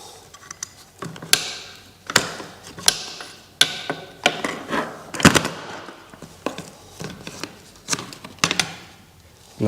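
A ratchet turns a T50 Torx bolt on a Ford Focus Mk1 seat, making close, sharp clicking bursts in uneven rhythm, with short pauses between strokes and no talking.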